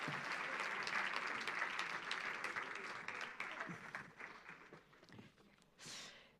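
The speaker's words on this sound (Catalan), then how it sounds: "un aplaudiment per ells i elles." An audience at a round-table congress session applauds the panel speakers, steady clapping that gradually thins and fades out, followed by a short soft noise at the end.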